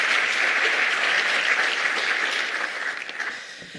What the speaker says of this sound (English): You are allowed to clap.